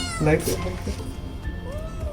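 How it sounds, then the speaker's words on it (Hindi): A small hungry kitten found at night gives a few high meows close by, mixed in with people talking over background noise. "बिल्ली बोल रही है म्याऊं म्याऊं।"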